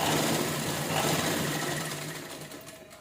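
An electric sewing machine stitches the neckline of an unlined princess blouse in one continuous, fast whirring run, close and steady before tapering off near the end, with no speech.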